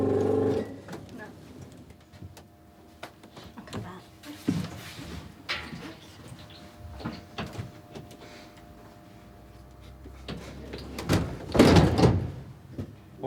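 An aircraft cabin door is worked during airline crew training, with a few heavy clunks and a loud slamming thud near the end, amid background voices and cabin noise.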